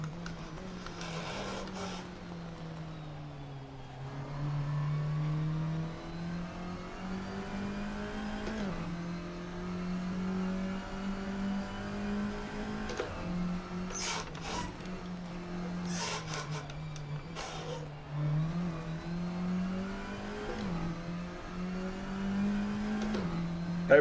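A race car engine in the Assetto Corsa sim racing game drones steadily, rising and falling in pitch as it revs through gear changes, moderately quiet with occasional sharp clicks and bursts of noise, no talk.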